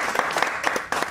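Steady applause from an audience at a Rotary Club gathering, a continuous patter of many hands at moderate loudness without a break.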